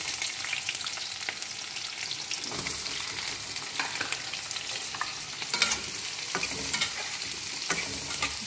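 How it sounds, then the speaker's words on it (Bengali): Sliced onions drop into hot oil with whole spices (cinnamon, cardamom, cloves, peppercorns, bay leaf) in a pan, giving a steady close sizzle with scraping stirs throughout, no talking. "আমি এটাতে পেঁয়াজ দিয়ে দেব।"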